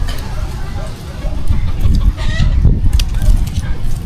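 Chickens cluck in a yard close by, with scattered short calls over a busy background and people talking throughout.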